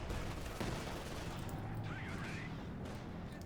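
Pak 40 anti-tank gun fire in Company of Heroes 2, a dense wartime battlefield with booming shots and gunfire cracking over steady rumbling noise, no voices.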